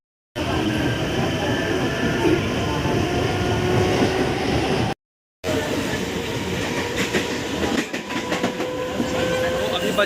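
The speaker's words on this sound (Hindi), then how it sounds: "तो फिलहाल हमारा ट्रेन आ गया" A commuter train arrives at a Mumbai suburban railway station, its loud, steady rumble and clatter filling the platform with a brief gap, then rail clicks and squeals as it slows, with faint voices underneath.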